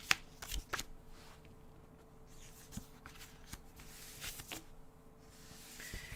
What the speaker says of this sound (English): Let's flip these cards over.